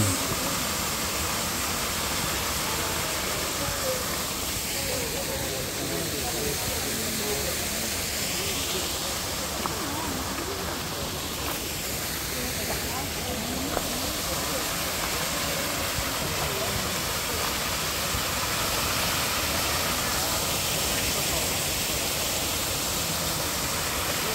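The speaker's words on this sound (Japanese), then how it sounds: "本物の滝、循環してる。" The Ryumon waterfall in the grounds of Kinkaku-ji in Kyoto roars in a steady, broadband rush of falling water that continues unbroken throughout, fairly loud and enveloping.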